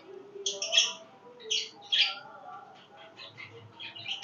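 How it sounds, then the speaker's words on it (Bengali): Birds in a pigeon loft give several short squawky chirps and calls in quick bursts, close by, with a few soft rustles between them. "আমি একটা টেডি কবুতর দেখাবো।"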